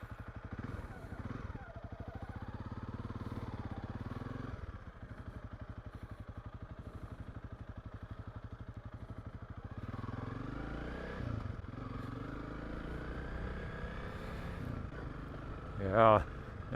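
Honda CRF 300 Rally motorcycle ridden along a sandy farm track in a South African nature reserve, its engine droning steadily with shifting revs throughout and a sharp thump near the end.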